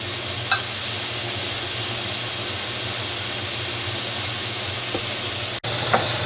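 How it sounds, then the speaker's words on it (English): Grouse breasts dredged in flour with salt and pepper frying in oil in a pan, a loud steady sizzle and hiss throughout, broken by a couple of faint clinks and a brief dropout near the end, no talking. "Put that in a pan with some oil. I'm going to cook this for about 5 minutes."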